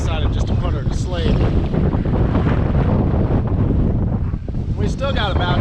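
Strong wind of around 25 to 30 knots roars across the microphone on a sailboat at sea, with waves rushing and washing beneath it in a loud, steady wash.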